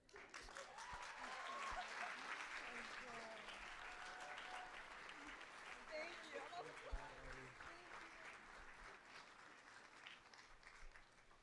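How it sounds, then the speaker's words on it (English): Sustained applause from an audience at the UI REACH convocation ceremony, a steady wash of many hands clapping heard at a distance and fairly faint, tapering slightly toward the end. "would you give another round of applause to all of our speakers"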